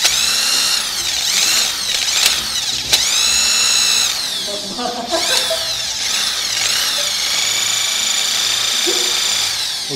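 An electric screwdriver fitted with a brass-brush polishing attachment whirs against a car wheel, loud close bursts of spinning motor with pitch dips as it loads up, running nearly continuously.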